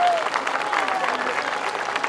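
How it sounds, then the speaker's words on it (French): Crowd applause for the Jeanne d'Arc 2023 of Compiègne, a steady dense clapping from a large audience throughout, with a brief voice at the start. "j'invite toute l'assistance à acclamer Jeanne d'Arc"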